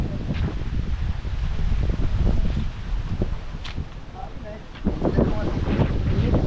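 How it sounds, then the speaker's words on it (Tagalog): Strong wind buffets the microphone in heavy, rumbling gusts that rise and fall, with faint rustling and a voice briefly speaking. "Ang hangin. Sobrang lakas ng hangin."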